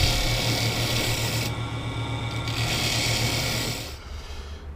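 A sapele bowl with dowel inserts and dried epoxy spins on a wood lathe, giving a steady loud rasping, rubbing drone with a low motor hum that continues unbroken and eases off slightly near the end.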